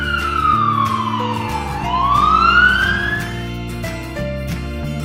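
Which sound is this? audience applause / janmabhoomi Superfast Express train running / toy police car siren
toy police car siren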